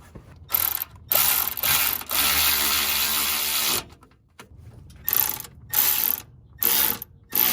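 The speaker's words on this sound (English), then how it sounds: "I'm going to tighten up the bolts with my Milwaukee ratchet" A Milwaukee cordless ratchet tightens the bolts on a new ground wire during a car's alternator and Big 3 wiring upgrade. It gives several loud, close whirring bursts of varying length, separated by short silent pauses.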